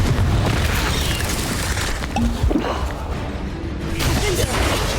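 A Confringo spell in Hogwarts Legacy bursting with a loud, booming fiery blast against game ambience, followed by rumbling debris.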